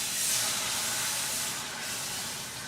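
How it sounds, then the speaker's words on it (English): Water poured into a hot cast iron skillet on a switched-off stove gives off a loud, steady steam hiss that stays strong throughout and tapers only slightly at the end. "I'll give it a quick rinse."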